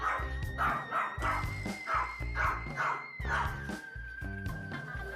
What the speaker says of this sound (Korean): 학생들이 오면 짖는 건 기본.